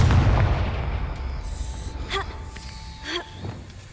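A Confringo blasting curse goes off in Hogwarts Legacy with a loud, deep explosive boom at the start that trails into rumbling debris and a few sharp magical zaps.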